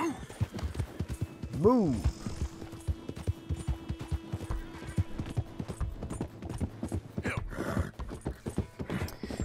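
Horse hooves clip-clopping in quick rhythm in Red Dead Redemption 2, with a short whinny early on, gear and mechanism noises around, and someone talking over the steady hoofbeats.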